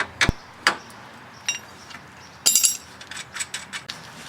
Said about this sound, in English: now we're going to loosen this nut